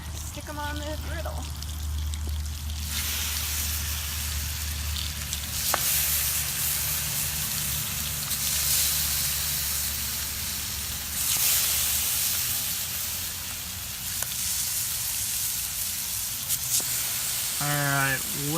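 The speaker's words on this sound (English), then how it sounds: "we're going to go ahead and stick them on the griddle" Pumpkin-batter French toast slices sizzling on a hot griddle, a continuous frying hiss that swells in bursts, with people talking intermittently over it.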